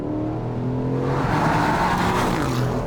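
Aston Martin Vantage Roadster V8 engine roaring steadily and loudly close by, roof down, rising in pitch as it revs, with a rushing wind-like noise and no speech.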